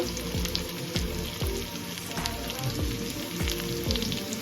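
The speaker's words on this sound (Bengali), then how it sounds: "আমার হলুদ লবণ দিয়ে ভালো করে ভাজা হয়ে গেছে" Bata fish frying in a pan with turmeric and salt give a steady, close sizzle with soft crackling pops throughout, and no voices are heard.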